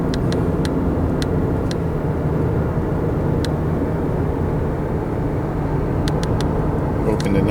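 A car drives east on a Louisiana highway toward New Orleans, giving a continuous loud rumble of engine and road noise inside the cabin, with faint intermittent ticks and no break in the drone.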